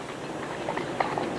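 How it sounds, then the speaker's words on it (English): Horse hooves clip-clop at a walk in a short, faint, irregular patter of a few soft strikes. "Can't we just walk until I get used to the horse?"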